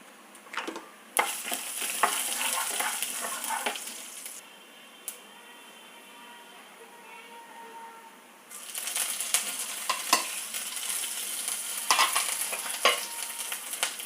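Mustard seeds and urad dal sizzle and crackle in hot oil, tempering for a thandu keerai sambar, with bursts of popping and spattering, a quieter stretch mid-way, then louder crackling again, close and with no talk.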